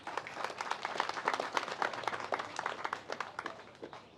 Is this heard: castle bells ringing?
no